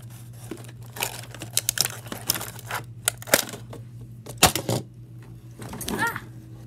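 Sharp tearing and crinkling from scissors cutting open the plastic packaging of a Power Rangers Ninja Steel Deluxe Battle Morpher toy. Irregular close bursts sound over a low steady hum.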